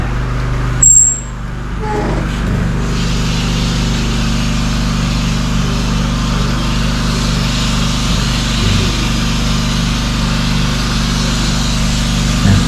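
A motorized sprayer applying termite treatment around a house runs as a steady engine drone with a constant low hum throughout, plus a brief sharp hiss near the start.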